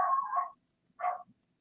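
A dog barks twice on a podcast set, two short separate barks close by with a pause between, nothing else around them.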